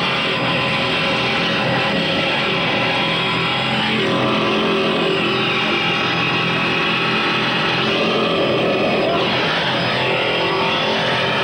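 A race car engine roars loud and close with a sustained, dense drone, giving a short burst of throttle as it pulls up to a checkpoint during a kilo record run, with no voices.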